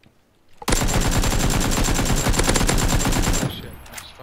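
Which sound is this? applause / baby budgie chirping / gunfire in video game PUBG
gunfire in video game PUBG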